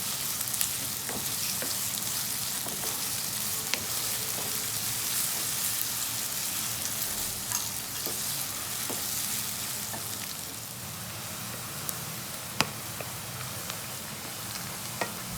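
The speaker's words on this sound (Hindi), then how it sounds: "प्याज को हम मीडियम फ्लेम पर फ्राई करेंगे" Onions frying until light brown on a medium flame, a dense continuous sizzle with occasional stirring scrapes and taps of a spoon, close and steady throughout.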